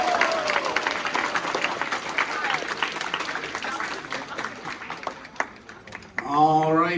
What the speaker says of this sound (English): Please give a round of applause to Team